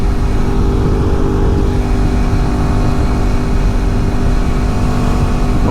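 A Suzuki V-Strom 650 motorcycle engine drones loudly and steadily while accelerating on the road with a pillion aboard, mixed with wind rush and no voices.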